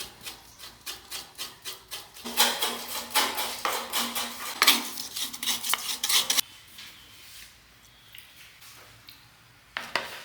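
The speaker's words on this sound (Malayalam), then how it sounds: "ഇനി ഇതാ തേങ്ങ നമുക്ക് ചിരകി വയ്ക്കാം." A coconut is grated by hand in quick, rhythmic rasping strokes that grow louder and denser in the middle before thinning to sparse scrapes, close up and without speech.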